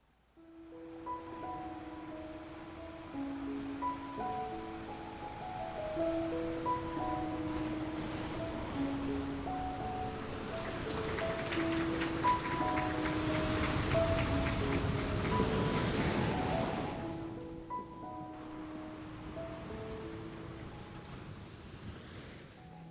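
Ocean waves wash and surge steadily under soft melodic music for a picture book reading, swelling louder in the middle before easing back.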